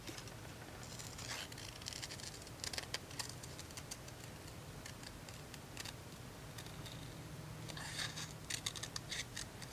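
Scissors snip and rustle through paper, cutting around a handle shape in a paper craft project, giving close, quiet, repeated crisp cuts in an uneven rhythm with no talking.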